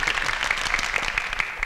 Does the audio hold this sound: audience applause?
yes